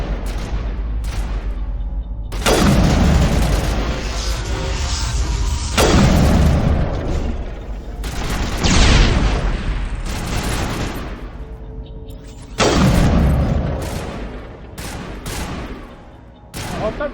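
Sniper rifle fire in the Mass Effect sci-fi shooter: several loud heavy booming shots spaced a few seconds apart, each with a long ringing decay, mixed with other gunfire and combat noise.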